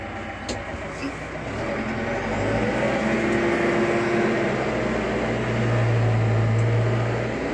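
A Massey Ferguson 6713 tractor ploughing with a PLN 5 plough, its engine a steady, loud drone that swells slightly partway through and holds unbroken, with no voices over it.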